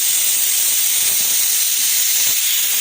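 Pressure cooker hissing out a steady jet of steam while cooking pav bhaji vegetables, a loud continuous hiss that holds unbroken throughout with no voices.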